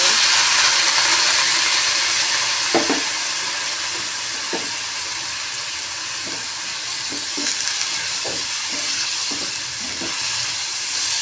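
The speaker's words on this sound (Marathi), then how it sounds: "मुगाची डाळ ही चांगली तेलात अशी परतून द्यायची आहे आणि हे कमी गॅसवरच परतवायचे आहे" Moong dal sizzles steadily in oil over low heat with a garlic and green chili paste, a constant frying hiss broken by a few soft spoon stirs and taps against the pan.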